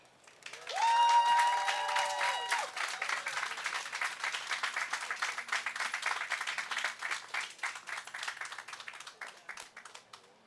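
Applause from an audience at a land bank groundbreaking in Fountain Heights, Birmingham, swelling quickly to a dense, steady patter of many hands that thins and tapers near the end, with a brief voice heard at the start.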